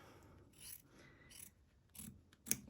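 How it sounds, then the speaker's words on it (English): Scissors snip through stitches on fabric while a star-themed mug rug is being made, a few quiet, close cuts and rasping slides with a sharper snip near the end. "grab your scissors and"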